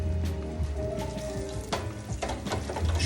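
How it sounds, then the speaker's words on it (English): Chicken wings fry in oil at 325 degrees with a steady close sizzling hiss and occasional crackles running unbroken throughout. "So these are gonna go down at 325."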